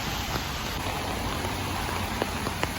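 Steady rain falls on a night street in Seoul, a dense, even hiss with a few faint, sharper drips standing out near the end.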